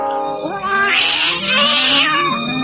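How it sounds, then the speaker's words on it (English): A cat gives a long, loud, drawn-out meow with a wavering, rising and falling pitch, close and alone in a cartoon scene. "then I will get my little darling Kitty a saucer of cream"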